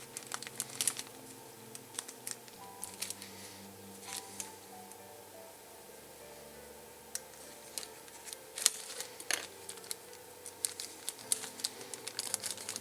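Small plastic bag from an LED windmill kit crinkling and rustling as it is opened, quiet close-up scattered crackles and sharp clicks over a faint steady background.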